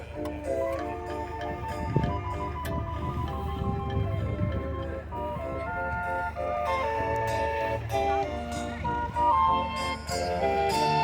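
An organ plays a steady, bright melody with sustained chords, filling the space continuously at moderate volume.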